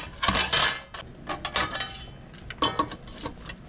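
A metal lid goes onto a cooking pot of boiling vegetables by a river, giving a series of close clanks and scrapes in uneven bursts with short quiet gaps.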